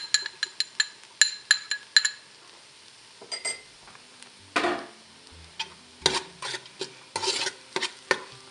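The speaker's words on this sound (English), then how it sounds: "Fry it for a couple of minutes." Browned onion with ginger and garlic fries in a pan for chicken chili, heard as a quick run of light metallic clinks and ticks, then scattered stirring scrapes and soft sizzles up close.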